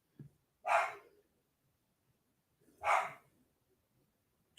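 A dog barks twice at a new toy, sharp single barks about two seconds apart, fairly close and moderately loud against a quiet room.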